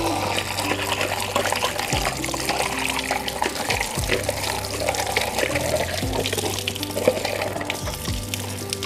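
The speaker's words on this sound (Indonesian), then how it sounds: "Oleh karena itu saya harus cuci kembali nih." Tap water runs steadily into a used shampoo bottle as it is rinsed out, a close, continuous trickling and splashing with low gurgling from the filling bottle, with no talk.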